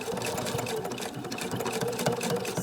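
A sewing machine runs continuously as it backstitches over ribbon on a fabric placemat, a loud, steady rapid mechanical whirr close by with no pauses.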